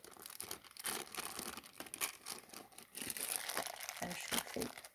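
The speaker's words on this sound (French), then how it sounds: "Je vous déballe le petit ballon." Crinkling plastic packaging as a miniature toy balloon is unwrapped, close-up crackles and rustles in irregular bursts, with a person speaking quietly over it.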